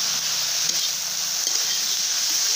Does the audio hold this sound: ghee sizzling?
yes